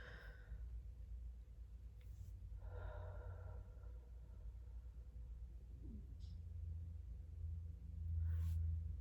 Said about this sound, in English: We're going to take 3 deep breaths because I need it.